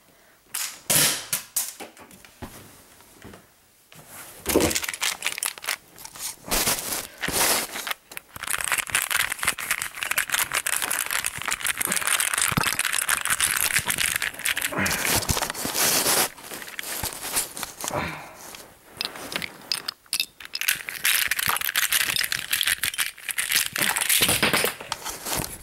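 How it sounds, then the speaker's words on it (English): Rubik's Cube being smashed apart, giving a long dense run of loud cracking, snapping and clattering plastic that starts after a few quiet seconds, no talking. "I'm going to destroy this Rubik's Cube."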